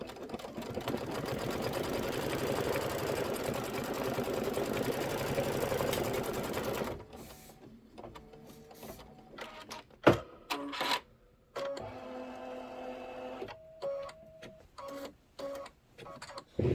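An embroidery machine stitches a placement stitch rapidly with a dense, steady whir for several seconds, then runs in short stop-start bursts with brief pauses between.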